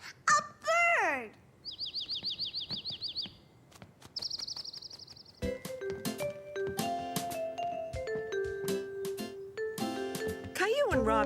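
Cartoon bird chirps in quick repeated trills, bright and high, followed by musical tones and a voice imitating a cat's meow.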